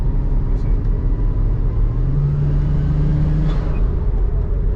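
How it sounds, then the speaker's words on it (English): A BMW 335's twin-turbo engine drones steadily and close, with a whining tone that climbs near the middle and then holds before fading. "That's the turbo sounding like that."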